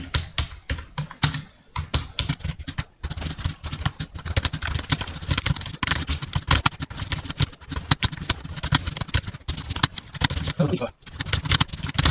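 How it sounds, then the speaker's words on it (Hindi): Rapid, uneven keystrokes on a computer keyboard during a typing-speed practice session, clattering continuously at close range with only brief pauses. "ये है मेरा टाइपिंग, मैंने गलतियों का अंबार लगा दिया।"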